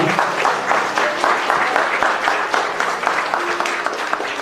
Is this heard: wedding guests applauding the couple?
yes